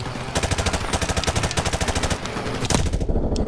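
Rapid automatic gunfire from Call of Duty 4: Modern Warfare Remastered on PS4 in a veteran-difficulty campaign: a loud, dense string of shots in fast regular bursts, with a sharper blast near the end before it trails off.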